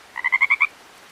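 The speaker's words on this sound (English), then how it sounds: "Hello, little frog." A frog croaks in a quick run of six evenly spaced, close, loud pulses that form one short burst, then falls silent against a quiet background.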